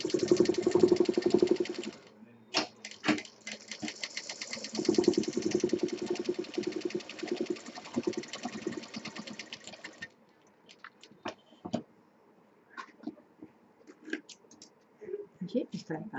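A sewing machine stitching fabric for a DIY sling potli bag: a close, buzzing motor runs in bursts with rapid needle chatter, then stops, leaving scattered clicks and handling sounds.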